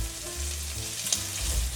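Vegetables frying in hot fat in a pan, a dense continuous sizzle with brief stirring scrapes, close and fairly loud, no voices.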